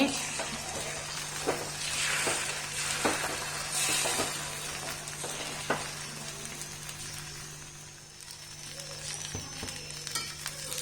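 Frying in hot coconut oil with curry leaves, a steady crackling sizzle close up, punctuated by scraping stirs and occasional clinks, fading slightly before picking up again, under a low constant hum.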